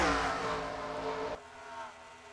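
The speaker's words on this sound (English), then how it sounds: "Coming on turn 4 for the last time, Seth Cole wins the Pep Boy Auto Parts 500 at Atlanta" Race cars roaring through the final turn at Atlanta in a stock car racing video game, a loud sustained engine drone that drops abruptly partway through and then continues more quietly.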